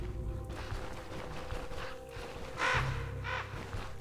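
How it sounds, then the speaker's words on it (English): Crows cawing in the fantasy RPG Stoneshard, two short harsh calls near the end standing out over a steady bed of game ambience and music. "Ah, stupid birds, get out of there."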